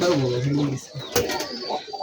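A pair of green Rajshahi Giribaz pigeons coo in a short low burst up close, followed by rustling and a voice speaking nearby.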